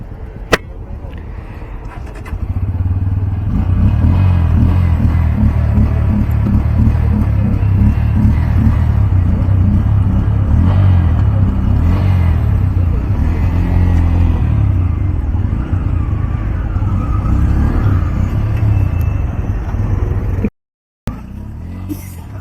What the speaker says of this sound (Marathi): Let's start the engine.